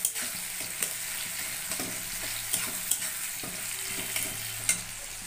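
Green chillies frying in oil for mustard poppy fish, a soft steady sizzle with occasional spatter pops and light stirring clinks, close and fairly quiet.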